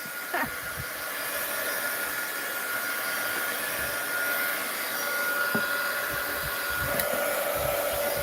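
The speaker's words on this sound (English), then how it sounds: "Heat gun alert!" A heat gun runs steadily throughout, a continuous loud blowing hiss like a hair dryer, used for mixed-media paper crafting, with a few faint clicks and taps over the top.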